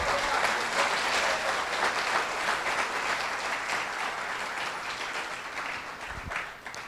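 A church congregation applauds in a steady, dense wash of clapping that holds throughout and eases slightly toward the end.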